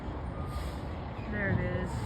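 A garbage truck's engine rumbles steadily nearby, and a short series of reversing beeps sounds near the end over the low drone.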